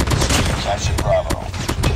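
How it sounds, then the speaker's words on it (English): Automatic sentry gun fires in a multiplayer shooter match during a capture-point fight, a fast, busy volley of shots on top of dense game noise. "Sentry gun."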